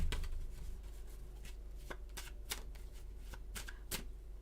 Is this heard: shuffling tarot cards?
yes